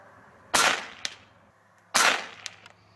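A rifle fired during scope zeroing, two sharp loud shots about a second and a half apart, each followed by a short fading echo and a faint trailing click.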